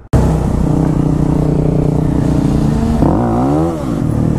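Motorcycle engine revving hard during a wheelie, loud and close, with a sustained roar at steady pitch that then swoops up and down as the throttle changes.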